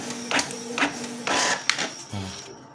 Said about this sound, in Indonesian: setelah itu printer jalan